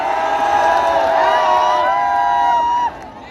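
A political rally crowd welcoming Akhilesh Yadav, a loud, sustained roar of cheering and drawn-out shouted whoops that rise and bend together, then drop off sharply near the end.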